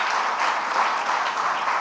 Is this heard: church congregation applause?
yes